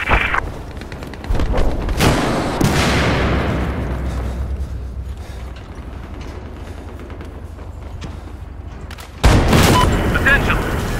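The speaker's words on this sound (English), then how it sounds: "light machine gun." Battlefield 4 gameplay on PS4: light machine gun fire and heavy booms crash out loudly, followed by a rumbling explosive tail and another burst near the end, mixed with in-game voices.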